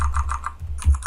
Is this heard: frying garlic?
no